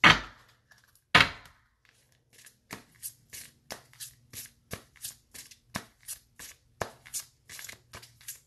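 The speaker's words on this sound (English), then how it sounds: "Let me get another card for you" Playing cards are riffled in two sharp shuffles, followed by a steady run of about a dozen crisp individual snaps and slides as cards are drawn, close and otherwise quiet.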